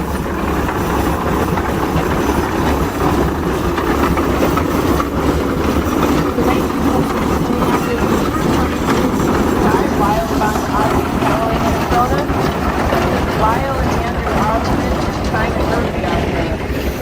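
A Minneapolis steam traction engine, a 22 horsepower model with its water bunker mounted on the front, rumbles and chuffs steadily through a threshers' parade reunion. The sound is continuous and fairly loud, with crowd noise and speech mixed in.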